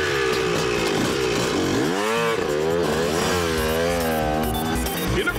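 A cartoon motorbike engine buzzes close and loud, its pitch swooping up and down in wavering revs with a raspy, chainsaw-like tone.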